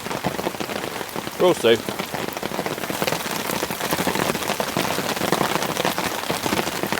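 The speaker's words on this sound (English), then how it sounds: "the rain hasn't eased whatsoever. It's absolutely bucketing down." Heavy rain drums steadily and loudly on a tarp overhead, with a person speaking briefly early on beneath the downpour.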